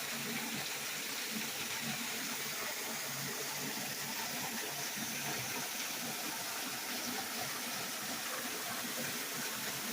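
Spring water flows out at Falling Springs in Winona, Missouri, a constant broadband rush of water heard for the whole stretch, steady and even with no pauses.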